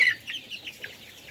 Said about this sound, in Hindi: ये अजान की बांग की आवाज़ है।